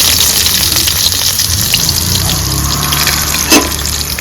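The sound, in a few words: onions frying in oil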